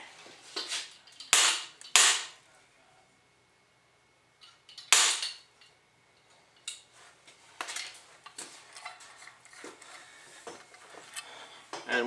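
A kinetic bullet puller is struck repeatedly against a hard surface to free a bullet from a 40 S&W cartridge, giving several sharp, loud bangs close by with scattered clicks and rattles of handling in between.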